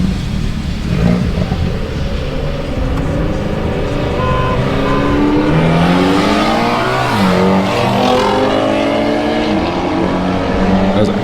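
An Audi and a Mitsubishi Evo race in a snowstorm, their engines roaring loud and steady throughout, with harmonic revving that rises and shifts midway as the cars accelerate close by.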